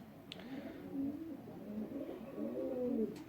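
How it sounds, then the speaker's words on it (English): Pigeons cooing inside a loft, soft low rolling coos repeated over a few seconds, close by, with a faint background hum and no talking. "He's a 2008 pigeon."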